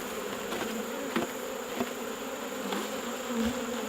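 Honey bees buzz at a nuc hive in a steady, fairly faint hum with a few soft ticks and bumps.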